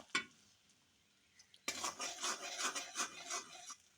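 A spoon stirs a chalta pickle mixture in a pan. A single clink comes first, then after a quiet gap a steady run of wet scraping and stirring.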